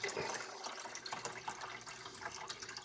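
Water pours steadily into a Keurig K-Duo coffee maker's reservoir with a splashing, gurgling rush, close by and without speech.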